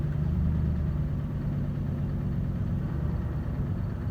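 Car engine idling with the air conditioning switched on, a steady low rumble and hum up close with a slight rise and fall in revs, no voices over it.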